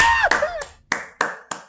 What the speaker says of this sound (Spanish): Te aplaudo.